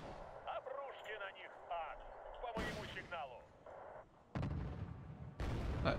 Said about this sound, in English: I'll use the Burratino on this squad of paratroopers that's coming our way